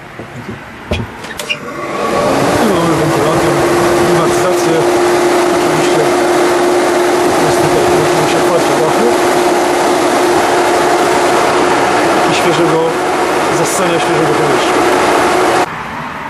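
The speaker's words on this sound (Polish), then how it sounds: "Także jak widzicie, wentylator działa." The cabin ventilation fan of a 1996 Fiat Ducato Hymer camper switches on after a couple of clicks and then runs as a constant, steady whir with a faint tone, close and continuous until cutting off near the end.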